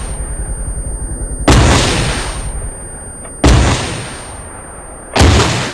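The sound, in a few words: HIMARS rocket launcher firing missile in video game ARMA 3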